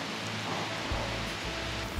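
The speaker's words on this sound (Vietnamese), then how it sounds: "trời bỗng nhiên đổ mưa nặng hạt" Heavy rain pours steadily at the Angkor temple complex in Cambodia, a dense, continuous hiss close by with low rumbling underneath, and no voices.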